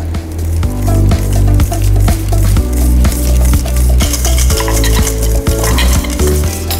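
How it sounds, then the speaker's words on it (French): A spatula or whisk works melted butter into cream cheese and icing sugar in a bowl, making close, steady, rhythmic stirring and scraping strokes with no talking. "Il ne nous reste plus qu'à incorporer le beurre fondu"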